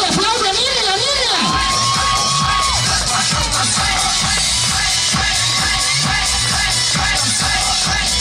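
Audience cheering, whooping and shouting at a live Gangnam Style dance show in Tepanco, with children's voices in the crowd. The noise is loud and continuous, with a whistle-like tone early on.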